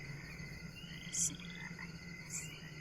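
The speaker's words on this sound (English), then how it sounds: "we got like frogs chirping, frogs and crickets" Quiet night ambience of chirping frogs and a steady insect trill from crickets in The Sims 4 video game, with a couple of brighter calls standing out over a low hum.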